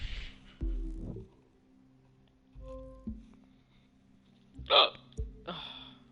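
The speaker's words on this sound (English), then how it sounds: "Fucking hiccups" Several sharp hiccups from a person playing The Crew 2 racing game, occurring irregularly over a quiet background with low engine-like hum, the loudest near the end followed by a brief exhale.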